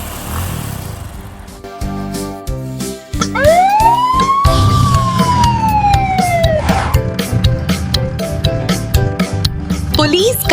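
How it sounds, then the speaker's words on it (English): Police car siren sweeping up and down in a loud, clear wail over a steady vehicle rumble and a repeating background beat. "Police car."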